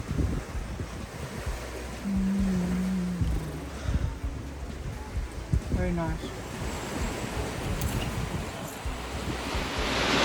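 Ocean waves and steady wind rush around a sailboat crossing the Indian Ocean at speed, a continuous broadband wash with gusty microphone buffeting, while people talk briefly over it.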